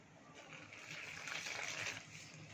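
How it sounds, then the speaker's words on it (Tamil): A faint, steady stream of water pouring into chapati dough for a couple of seconds, soft and close. "தேவையான தண்ணி நம்ம ஊற்ற போகிறோம்."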